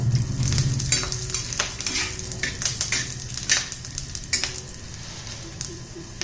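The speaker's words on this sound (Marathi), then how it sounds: "त्याच्यात खोबरं घालूया थोडस लसूण घालू तांबूस रंगावर येईपर्यंत भाजून घ्यायचं खोबराचं" Grated coconut and garlic roasting and being stirred in a pan, a steady sizzle broken by repeated scraping strokes of a spoon against the pan, close and continuous.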